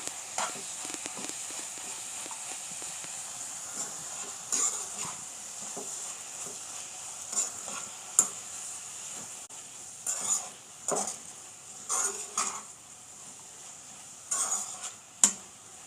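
Spring onions with salt and turmeric are stirred in a frying pan over a soft background sizzle, with scattered scrapes and clinks of a spoon against the pan that come in bursts, mostly later on.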